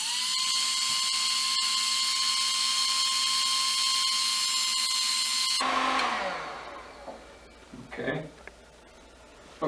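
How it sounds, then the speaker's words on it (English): Steady high whine of a heat gun blowing on the large end of a shrink tube, running continuously for several seconds before cutting off and winding down, with a few small knocks afterward. "we're going to go ahead and shrink the large end of this shrink tube"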